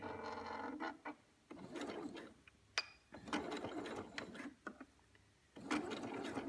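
A sewing machine stitches bias binding onto a neckline in several bursts of rapid mechanical whirring, separated by short pauses, close and clear without talk.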